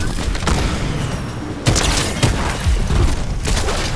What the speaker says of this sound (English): Sniped him with the crossbow.